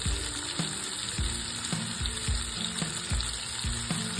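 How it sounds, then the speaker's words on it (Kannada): Bangda fish fry in a pan over a medium flame with a close, continuous sizzle, a regular rhythmic thumping pulse running underneath throughout. "ಈ ಥರ ಫಿಶ್ನ ಹಾಕ್ಕೊಂಡು 2 ಸೈಡೂ ಒಂದು ಮೀಡಿಯಮ್ ಫ್ಲೇಮಲ್ಲಿ ಚೆನ್ನಾಗಿ ಬೇಯಿಸ್ಕೊಬೇಕು."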